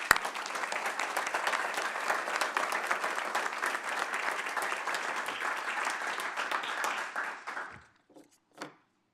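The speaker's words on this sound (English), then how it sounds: "let's give them a round of applause" A room full of people at a county board meeting claps for a committee, a dense, steady round of applause lasting several seconds before fading out, followed by a couple of faint late claps.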